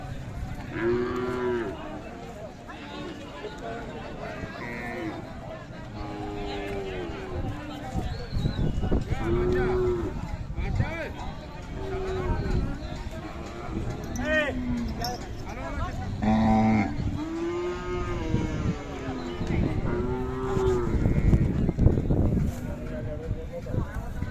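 Khillar cows at a crowded cattle market in Sangola give repeated long, deep moos close by, with several calls overlapping through the clip under steady background talk.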